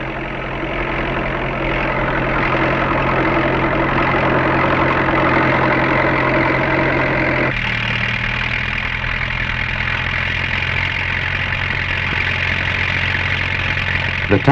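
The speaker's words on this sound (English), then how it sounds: "All of the 37 tractors available are mobilized." Tractor engines from a fleet of 37 tractors autumn plowing in 1960s China drone steadily and loudly for the whole stretch, a low rumbling hum that shifts slightly in tone partway through.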